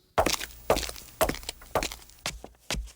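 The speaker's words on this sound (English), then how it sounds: "to footsteps on all types of surfaces." Footsteps on assorted surfaces from a sound effects library, heard as six or seven distinct, fairly close steps spaced about half a second apart, each a sharp percussive impact with no talking.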